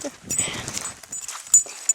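On a nature walk, a dog whimpers and whines in short bursts close by, with a few sharp high squeaks and rustling movement, and a person speaks alongside.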